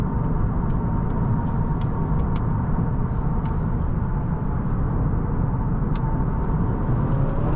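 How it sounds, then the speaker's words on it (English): A 2018 Honda Accord Sport 2.0-liter turbocharged four-cylinder engine hums steadily from inside the cabin, a constant low rumble under road noise with a few faint clicks and ticks. "The engine sounds really good, actually. For a Turbo 4"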